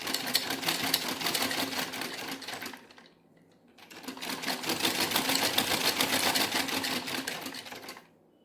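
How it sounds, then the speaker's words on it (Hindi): A sewing machine stitching the lining of a blouse, whirring in two rapid bursts with a short pause between them, fairly close and with no voices. "आपको इधर से सिलाई करनी है।"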